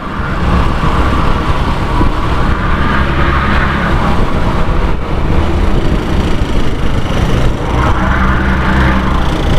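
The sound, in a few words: driving behind a truck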